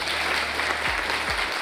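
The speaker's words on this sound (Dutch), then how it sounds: "Een warm applaus voor." Warm audience applause welcoming a government minister at a student event, a continuous wash of clapping with low rumbling thumps underneath.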